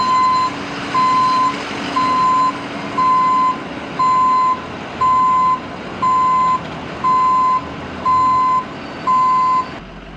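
A truck at a gas station sounds a loud, steady reversing beeper: about ten evenly spaced tones over a low engine rumble, with no talking.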